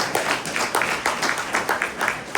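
An audience at a tech demo night breaks into a short burst of applause, a dense patter of clapping from many hands that is loud and brief.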